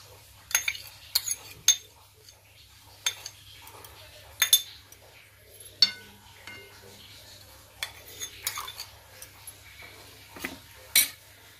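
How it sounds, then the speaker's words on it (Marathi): A spoon stirs saffron into milk for kesar basundi, giving a string of light metallic clinks and scrapes against a vessel at irregular intervals, close and fairly quiet over a low steady hum. "आता हे केशर दुधात मिक्स करून घ्यायचं थोडं"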